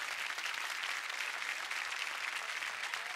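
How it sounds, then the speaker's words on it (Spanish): Steady, full applause from a television studio audience for a departing jury on a variety show, continuous dense clapping at moderate volume with no speech over it. "Y un aplauso para nuestro jurado,"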